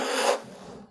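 A plastic Starbucks card smooths glaçage over a surface in one short, close, raspy scraping stroke that stops abruptly and leaves a faint tail.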